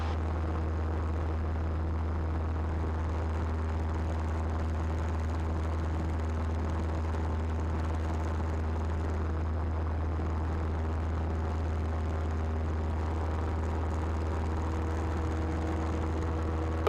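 Steady propeller drone and engine hum from a Cessna 172N single-engine training aircraft in flight, a loud constant low throb with no break for the whole stretch and no talk over it.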